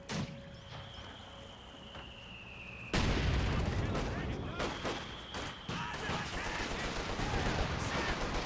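A Sufus unit fires in Company of Heroes 2, erupting after a quieter stretch into a loud, dense run of heavy gunfire and explosive blasts that keeps rumbling over the battlefield din.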